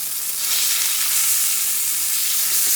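Steak sears in a pan on a stovetop, giving a steady, close, bright sizzle that swells slightly and holds without a break.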